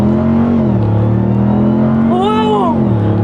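A 2021 Ram TRX fitted with a GTHaus exhaust launches hard, its engine holding a deep loud roar that climbs in pitch as it pulls, then drops at an upshift and keeps building, close and overpowering throughout.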